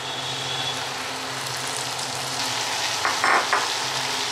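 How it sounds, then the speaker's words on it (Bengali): Chicken frying in oil already used for shrimp gives a steady, close sizzle, with a few louder crackling bursts and stirring scrapes near the end. "আর এইটা আমি চিংড়ি মাছ যে ভাজলাম সেই তেলের মধ্যে ভাজতেছি"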